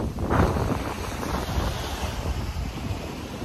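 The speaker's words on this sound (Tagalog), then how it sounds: "Malalakas ang alon." Strong Pacific Ocean surf breaking at the shore of a boulevard seawall, a continuous roaring wash of waves mixed with heavy wind buffeting the microphone, loud and steady with no voices.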